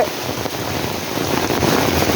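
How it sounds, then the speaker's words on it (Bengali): Steady heavy rain pouring down beside a river, a dense continuous hiss of drops drumming on surfaces, loud and unbroken throughout. "প্রচুর পরিমাণে বৃষ্টি হচ্ছে"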